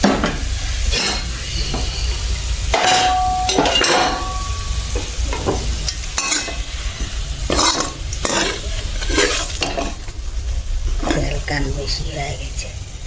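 Steady sizzling of lentil fritters (bora) frying in a pan, with repeated scraping and clinking as they are stirred, and a voice talking over it.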